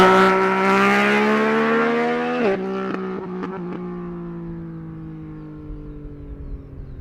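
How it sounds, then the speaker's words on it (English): An engine passes at Dublin Airport, its tone loud and close at first, then dropping in pitch and fading as it moves away, with a few knocks and rattles and a faint wind rumble at the end. "Motorcycle on the way."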